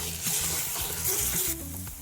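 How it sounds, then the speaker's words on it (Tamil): Sizzling and frying of ginger garlic paste in a hot pan with soft stirring scrapes, a steady hiss throughout with music or voices faintly underneath. "இஞ்சி பூண்டு பேஸ்ட்டு சேர்த்துக்கிறேன் இது பச்சை வாசனை போகிற வர வதக்கி விட்டுக்கோ"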